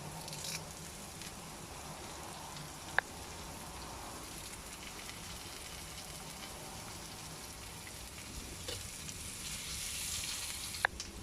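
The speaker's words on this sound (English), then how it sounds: "Now I'm going to add in some curry leaves." Pounded garlic and curry leaves sizzle in hot oil, a steady soft crackling fry with occasional sharper pops, quiet and continuous with no talking.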